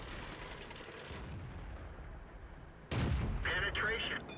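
Tank cannon in World of Tanks fired from a Panzer IV, one sharp heavy blast rising out of a low rumbling engine bed, followed by ringing and clanking tails.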